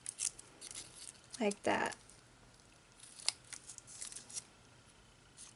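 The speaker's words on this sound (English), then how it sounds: "I'm going to take my scissors and just give these a rounded edge around the petals" Scissors snipping paper petals for an accordion-fold flower rosette: a few short, quiet snips close by, with a brief pause between cuts and a person talking softly over part of it.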